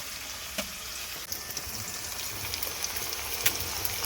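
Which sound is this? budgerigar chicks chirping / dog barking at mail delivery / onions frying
onions frying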